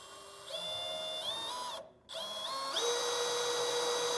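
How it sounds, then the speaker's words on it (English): A power drill bores a pilot hole up through a pickup truck bed for an underbed gooseneck hitch, whirring steadily at high pitch, briefly stopping before spinning up again and revving higher toward the end, close and loud. "I'm just going to go ahead and drill my pilot hole right through there"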